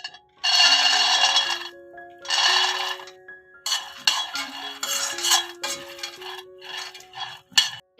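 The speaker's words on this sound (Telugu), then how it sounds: "అదే ప్యాన్లో అండి పల్లీలు వేయించుకుందామండి." Peanuts roasting in a pan for mahua flower laddu, stirred with a utensil, giving repeated scraping and clinking bursts in separate spells, fairly loud and close, with no talking.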